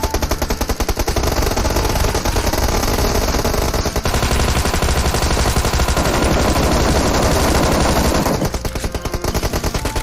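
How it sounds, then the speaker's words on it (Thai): Submachine gun fire in PUBG Mobile, UMP and Thompson style, with loud, rapid, continuous bursts that run almost nonstop with a brief break near the middle. "บอกแล้วว่าปืนนี้มันยิงได้"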